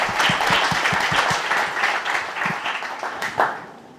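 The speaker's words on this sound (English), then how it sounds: "So can we give the Googlers a round of warm applause?" A conference audience applauds, dense clapping from a crowd that fades out over a few seconds and is heard alone.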